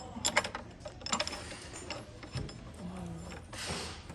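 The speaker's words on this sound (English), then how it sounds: "Tilt our seat up." Seat tilt mechanism on a Herman Miller Aeron office chair clicking and ratcheting at close range, a short run of mechanical clacks and creaks followed by a brief grinding rattle.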